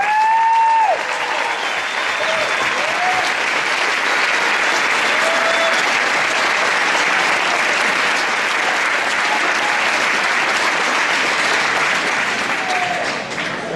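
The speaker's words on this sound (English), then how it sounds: "I think we all owe them a round of applause." Steady, sustained applause from an audience at a high school fall sports awards night, dense clapping filling the room throughout, with a few faint cheers and whistles rising over it.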